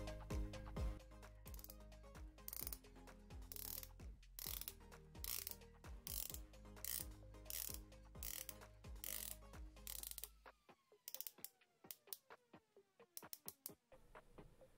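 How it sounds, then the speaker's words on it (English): A unidirectional 120-click ceramic watch bezel on a Boldr Odyssey Freediver is turned, giving rapid, crisp, close clicks in quick runs with short pauses that thin out toward the end. "The 120 click unidirectional bezel has a ceramic insert and a crisp, precise action."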